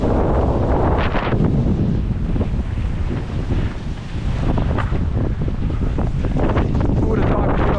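Strong gusting wind buffets the microphone on a Southern California mountain bike trail, a loud continuous roaring rumble that swells and eases, with a voice faintly mixed in.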